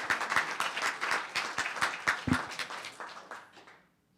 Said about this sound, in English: Let's have a round of applause for Adam and everything he does.